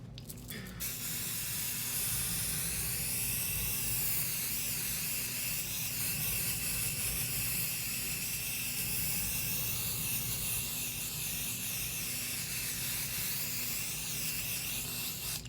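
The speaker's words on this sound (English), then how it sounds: "So I covered my stencil with my spray adhesive." Spray adhesive hisses steadily from an aerosol can onto a stencil, one continuous close spray lasting nearly the whole time with no talking.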